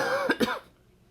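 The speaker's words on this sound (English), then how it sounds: "Sorry about my cough." A short double cough, two quick rough bursts close to the microphone, then fading into quiet.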